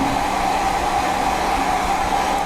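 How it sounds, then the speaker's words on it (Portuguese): A hair dryer blows steadily and loudly, drying wet paint on a stencil design, a constant whirring rush of air with no talk. "Aí você vem com o secador e seca rapidinho"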